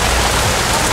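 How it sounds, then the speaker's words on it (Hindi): Steady rain falls outside a new home, a dense, even hiss of drops on surfaces that fills the whole moment, close and fairly loud with no voices over it. "हम बाहर जाने लगे थे तो हो गई है बारिश का।"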